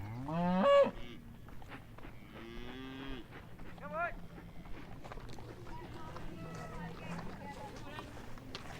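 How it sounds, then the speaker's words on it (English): Cows moo repeatedly around a farmyard, with one loud, close call at the start and further calls scattered through the clip, under footsteps and background chatter. "The cows are very frisky here, mooing away"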